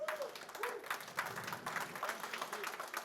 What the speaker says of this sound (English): let's get a round of applause for the organizers